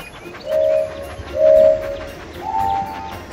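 Toy train running on a track in a kids' mobile game, with three short whistle-like tones over a steady rolling rumble at a loud level, and no talking.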